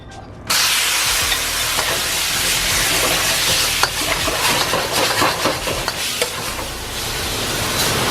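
Beef stir-frying in a hot pan for a Chinese takeout dish, loud continuous sizzle and hiss starting abruptly after a brief quiet moment, with occasional stirring clatter and no talking.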